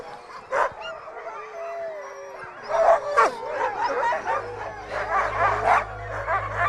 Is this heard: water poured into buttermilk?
no